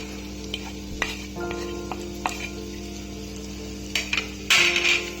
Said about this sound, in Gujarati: તેલ ગરમ થઈ ગયું છે, હવે આપણે જે વધ્યો છે તે મસાલો એડ કરીશું